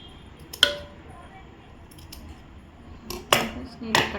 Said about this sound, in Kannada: ನೋಡಿ ಇವಾಗ ಎಕ್ಸ್ಟ್ರಾ ಇರೋದನ್ನ ಕಟ್ ಮಾಡ್ಕೊತೀನಿ